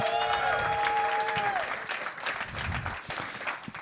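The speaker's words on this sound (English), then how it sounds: "Yeah, clap it up for that." Live audience applause at a podcast show recorded before an audience, a dense steady wash of clapping with a faint tonal ring over it early on, easing slightly in the second half.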